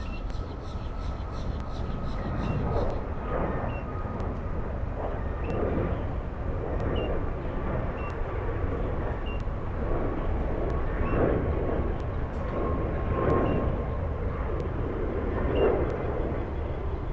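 Boeing 737 rolling at Miami International Airport, a steady broad roar with a faint whining tone and a rhythmic pulsing thrum, heard from a distance and sustained throughout.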